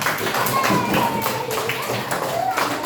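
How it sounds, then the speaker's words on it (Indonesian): Clapping from a classroom group during a primary-school lesson on animal life cycles, a busy continuous patter of many hands with some talk mixed in. "Tepuk tangan untuk kita semua."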